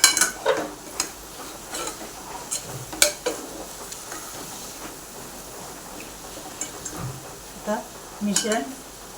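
A spoon mixing motichoor laddu mixture in a metal vessel, with scattered clinks and scrapes against the metal at irregular intervals, close and fairly quiet with no voice over it.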